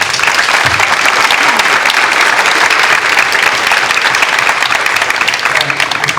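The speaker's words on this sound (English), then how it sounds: "One more round of applause for our top" Dense, loud applause from a school board meeting audience fills the room continuously and evenly throughout, with a faint murmur of voices beneath it.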